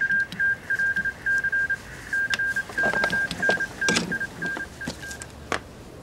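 A telephone call signal in a war film sounds as a regular series of short, clear electronic beeps, interrupted by a few sharp clicks and thumps.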